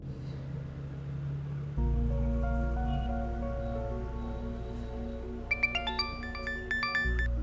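A phone ringtone plays in a Hindi crime drama scene, a melodic electronic tune with a low drone underneath, ending in a brighter run of rapid chiming tones.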